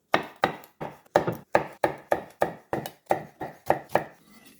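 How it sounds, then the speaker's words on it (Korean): A knife cuts a red chili pepper on a cutting board in about a dozen crisp, evenly spaced chops, close and distinct, each a sharp tap on the board. "홍고추도 1개 잘라줍니다"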